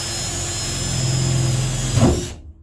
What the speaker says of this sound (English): put your hand on the back of the drill, that's it, and then just push and drill.